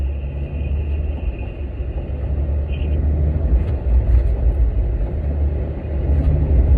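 A Porsche 911 on a track pulls hard under acceleration, giving a loud, steady low engine rumble that builds and holds for several seconds with no voices.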